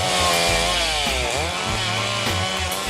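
Chainsaws cutting felled trees in a forest, a loud, continuous close-up engine roar with rising and falling pitch as the chain bites into the wood, no voices.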